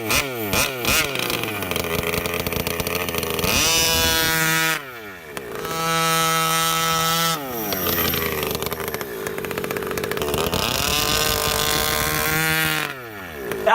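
The gas engine of a Redcat Racing Rampage fifth-scale RC car buzzes and revs hard, rising and falling in long whining pulls with short idle gaps between them, loud and close.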